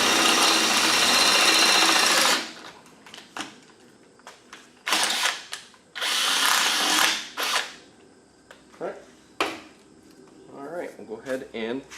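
A power drill bores with an 8.5 mm (3/8 inch) bit while installing Pedders coilover shocks on a Pontiac G8, a loud close whirring burst followed by shorter on-off drilling spurts and clicks.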